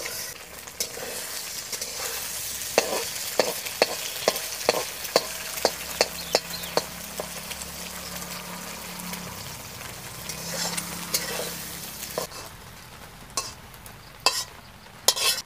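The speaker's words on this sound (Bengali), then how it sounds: "হলুদ গুঁড়ো, নুন, অল্প পেঁয়াজ কুচি দিয়ে আমি ডিমটা ভেজে তুলে রাখব।" Egg frying with turmeric, salt and chopped onion in a village kitchen, a steady crackling sizzle broken by a run of sharp utensil taps and scrapes, then louder clatter near the end.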